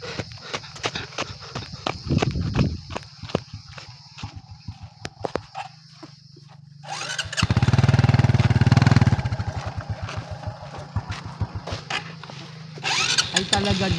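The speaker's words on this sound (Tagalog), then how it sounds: "ang motor dito kailangang matibay kasi ganito ang ahunin" A motorcycle engine labors up a steep uphill road at a Tau-Buid tribal community, its droning rev surging loudly mid-clip, with nearby voices talking over it.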